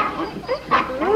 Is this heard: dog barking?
yes